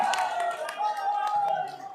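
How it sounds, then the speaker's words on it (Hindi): Crowd applause at a political workers' meeting in Jind, Haryana, greeting a speaker, with a voice over a loudspeaker talking on top of the clapping throughout. "बहुत बहुत जोरदार तालियों से स्वागत भाई जयप्रकाश जी"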